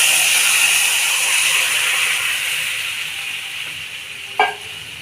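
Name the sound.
boiled lentils added to frying spices, sizzling and stirred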